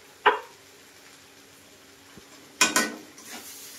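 A spiced vegetable curry with turmeric and salt is stirred in a pan: a sharp metallic clatter, a quiet stretch, then two quick scraping clanks near the end over a faint low sizzle.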